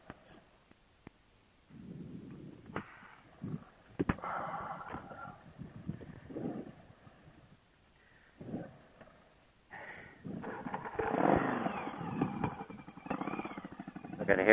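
A motorcycle engine comes through a headset, rough and intermittent, with muffled bursts and clatter under patchy talk, growing louder and more continuous toward the end.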